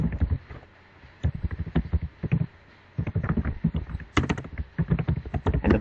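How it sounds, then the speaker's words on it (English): Keys clatter as an email address is typed on a computer keyboard, irregular clusters of quick taps with brief pauses between, close and fairly clear. "now we're going to type in the email"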